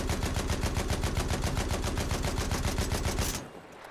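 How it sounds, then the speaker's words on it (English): A Fedorov assault rifle, an early Russian automatic weapon, fires in a video game: a loud, continuous burst of rapid automatic shots lasting about three seconds, then abruptly stops, leaving a fading tail. "But this was technically the world's first assault rifle made by the Russians. I'll fire it."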